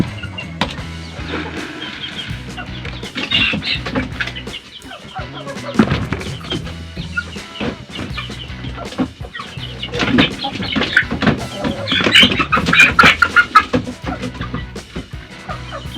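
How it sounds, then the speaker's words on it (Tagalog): Rhode Island chickens cluck and squawk close by inside a coop amid rustling and thumps, with a noisy, busy background throughout. "Dito sa loob ng kulungan na ito, may manok din dito na tatlo. Rhode Island na ibang color."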